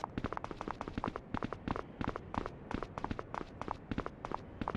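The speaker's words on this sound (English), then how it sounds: "there's no sound besides the clip-clopping of your party's footsteps" Party footsteps in the PS2 horror game Michigan: Report From Hell, a close, steady clip-clop of several overlapping steps that continues without pause and with no other sound.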